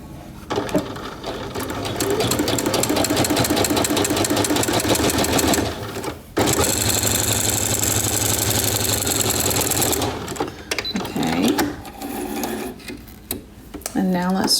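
Sewing machine stitching knit fabric at stitch length 3.5, a loud, rapid mechanical chatter running in long continuous bursts with a brief pause between them.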